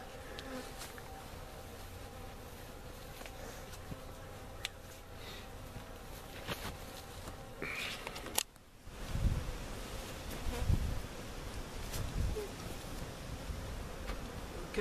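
Honeybees buzzing around an open hive during queen marking on a bee farm, a steady close drone of many wings with a brief dropout and some handling bumps later on.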